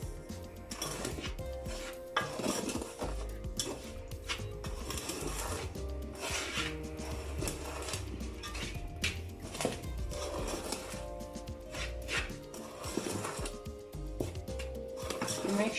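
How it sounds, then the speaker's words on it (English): Puff puff batter is stirred in a bowl, with repeated close scraping and clinking strokes in an uneven rhythm that carry on steadily throughout. "Make sure you stir it for all the ingredients to go everywhere."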